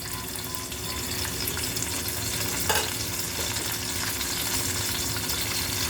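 Onion, cinnamon, cumin and curry leaves sizzle in hot oil for a smoke tadka misal, a steady close crackling fry with faint stirring and a brief scrape partway through.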